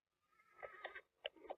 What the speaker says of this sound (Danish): Hvorfor er der nogle heste her?